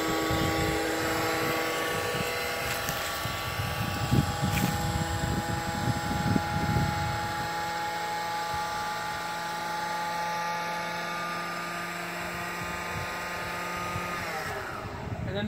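The electric 4,000 pound winch on an auto crane runs with a steady, droning mechanical whine that holds even for about fourteen seconds, then winds down at the end.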